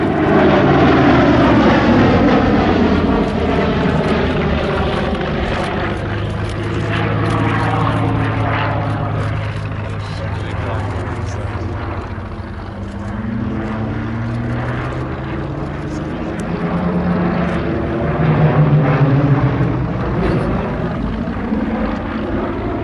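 A Hawker Hurricane propeller fighter passes at an airshow, its loud piston engine drone swelling and fading as it sweeps by, pitch shifting with each pass and no one talking.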